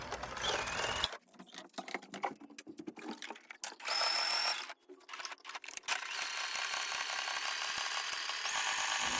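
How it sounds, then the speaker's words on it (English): Sewing machine running a decorative stitch around an appliqué on an upcycled skirt, with a steady close mechanical whir that stops and starts in short runs, then continues smoothly. "Now we'll add a decorative stitch all the way around the applique."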